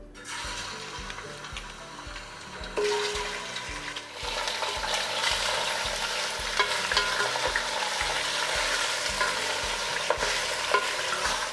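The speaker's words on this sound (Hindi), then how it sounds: "करीब 7-8 मिनट चिकन को हमें फ्राई करना है।" Chicken pieces frying in hot oil on high heat for a shahi chicken korma, the oil already used for frying onions; a steady, loud sizzle that swells after a few seconds and continues throughout with occasional stirring clinks.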